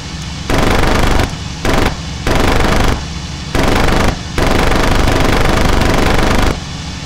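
Cannon and machine-gun fire from a BF-109 E3 fighter on a strafing run in the flight game IL-2 Cliffs of Dover, loud sustained bursts broken by brief pauses over steady engine drone.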